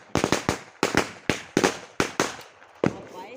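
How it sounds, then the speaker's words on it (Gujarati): Sutli bomb firecrackers go off outdoors in a series of about eight sharp, loud blasts, a few quick ones in a cluster then spaced bangs, each with a short echoing tail. "A હુતરી bomb"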